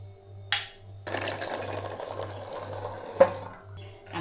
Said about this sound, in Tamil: இப்போ முன்னாடி வந்து சுண்டைக்காய் வந்து ஒன்று ரெண்டாக அரைக்க போகிறேன்